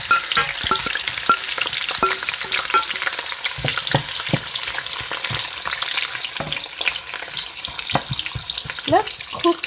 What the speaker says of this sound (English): Next, I'm going to add the sliced onions.